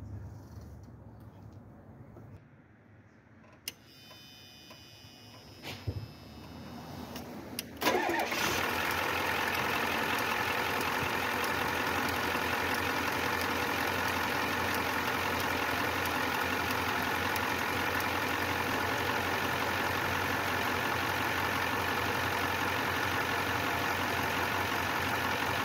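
A 1994 Ford F250 7.3 IDI turbo diesel with the air cleaner removed cranks after a few quiet clicks, fires up and settles into a loud, steady idle that runs alone for nearly twenty seconds.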